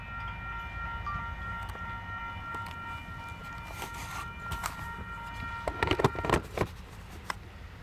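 A heavy loaded Union Pacific coal train with distributed power units rumbles past nearby, with steady grinding wheel noise, metallic squeals and clanks building toward the end.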